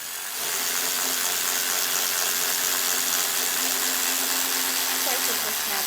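Snap-on power tool running on a Jeep during a sound bar install, a steady harsh whirring rattle that starts abruptly and holds constant, with someone talking faintly under it.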